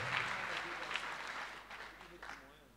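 Congregation applauding during a French-language deliverance and healing prayer service in church, fairly faint clapping that gradually fades, with voices speaking over it.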